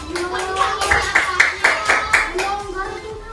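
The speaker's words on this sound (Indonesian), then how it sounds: "Lagi tepuk tangan sekali lagi untuk kita semua." Children in a primary school classroom clap together in a rhythmic burst of about eight sharp, evenly spaced claps, close and fairly loud, with voices talking alongside.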